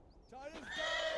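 A horse neighs in the video game Beyond: Two Souls, a single clear whinny rising and trembling over about a second, fairly near and alone over quiet game ambience.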